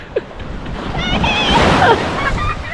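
Ocean waves wash in a rising and falling rush, with wind noise and a few faint voices and calls nearby.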